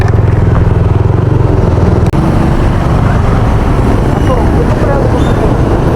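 A Yamaha NMAX scooter fitted with a turbo and a JVT V3 exhaust pipe runs loud and close, its engine a dense steady drone with rapid exhaust pulses and a brief dip partway through.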